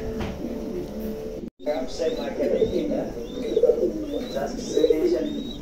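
A pair of pigeons coo in soft, repeated rounded calls, close and moderately loud, with a voice talking over and between the coos.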